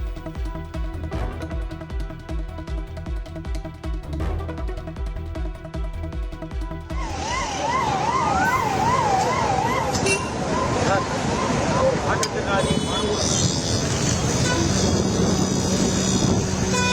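Fire engines race toward a gas leak at Chennai port, their warbling sirens rising and falling over road noise in the second half, with a narrator's voice and music before and around them.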